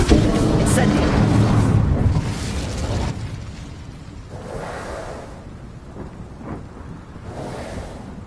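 Fire spell cast in Hogwarts Legacy erupts in a loud roaring burst that rumbles for about three seconds, then fades into softer whooshing bursts of magic and game effects, with speech mixed in.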